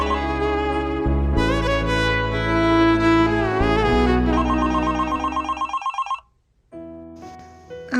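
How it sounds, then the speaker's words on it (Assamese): A mobile phone ringtone plays loudly and up close: a bright, melodic tune with repeated chiming notes that breaks off briefly, then starts again. "ফোন এটা আহিছে"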